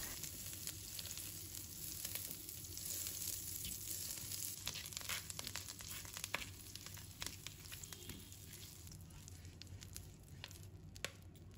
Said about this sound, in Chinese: 加入大约50克的牛油，用小火煮至牛油完全融化